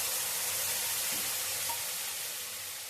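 Tamarind frying in a little oil for ginger chutney, a soft, steady sizzle close by with a faint stir or scrape partway through, no voices.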